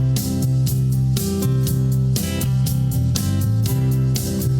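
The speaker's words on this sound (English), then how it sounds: "the pattern is Fab Dave's famous uplifting pop" A bright, steady pop backing track from Band-in-a-Box with drums, bass and chords, playing a cheerful upbeat groove at a constant loud level with no voices.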